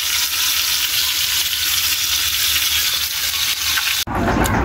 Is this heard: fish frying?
yes